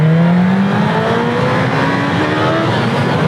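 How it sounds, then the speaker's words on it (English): Motorcycle engine revving hard in rain mode during an unexpected wheelie on twisty roads in Sauerland, Germany, a loud close rising whine over rushing wind noise. "That was an unexpected wheelie in rain mode as well."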